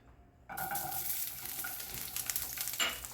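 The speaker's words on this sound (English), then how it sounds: "Carefully put your garlic into your smoking pan." Garlic hits a smoking-hot pan with a sudden loud sizzle that bursts in after a brief silence and keeps crackling steadily up close.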